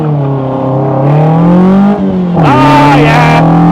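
A Westfield Se NA R-T sports car accelerating hard under throttle, its loud engine note climbing steadily in pitch with a brief gear change partway through, sustained and close throughout.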